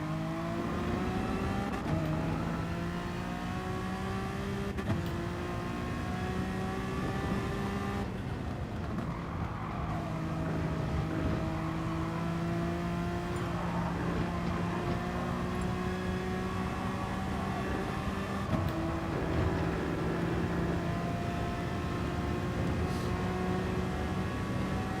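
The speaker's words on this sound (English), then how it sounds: "I like the downshift noise this car makes." A race car in the GT Sport racing game revs hard through the gears, engine tone rising and then dropping in sharp downshifts, loud and continuous with brief tire squeal and no talk.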